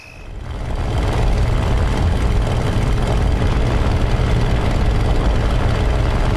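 A Bf 109 G6 fighter engine in a flight simulator combat game, fading in quickly to a loud, steady, dense droning roar that holds unchanged to the end, no talk.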